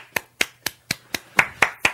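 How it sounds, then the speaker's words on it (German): Eight sharp, evenly spaced claps ring out close up, a single pair of hands clapping in a steady rhythm. "großen Applaus bitte"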